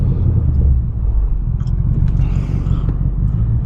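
600+ horsepower BMW M550 launching hard from a stop, a heavy continuous low rumble of engine and road noise heard from inside the cabin, loud and steady throughout.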